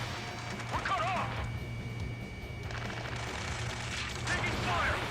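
Fighter jets and aerial gunfire in the Ace Combat 7 flight combat game come through as rapid bursts of shots over a low engine drone, fairly faint and mixed under radio chatter.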